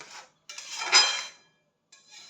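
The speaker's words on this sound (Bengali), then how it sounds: "এভাবে নাড়তে হবে, জলটা একটু মরে যাবে এবং জিনিসটা সিদ্ধ হয়ে যাবে" A spoon scrapes and clinks against a cooking pan while pumpkin chutney is stirred, making short, close scraping strokes separated by brief pauses.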